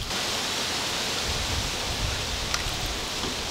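Cooking oil pours steadily from a jug into a turkey fryer pot, a continuous close, broadband splashing rush that holds unbroken throughout with no talking.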